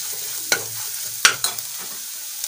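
Kashmiri chili powder masala frying in a pan for an egg puff filling: a soft, steady background sizzle with a few distinct spatula scrapes and taps against the pan, close and unaccompanied by speech.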